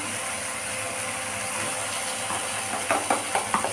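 Green pea paste fries in a pan with a constant close hiss, ending in a few sharp scraping knocks of stirring.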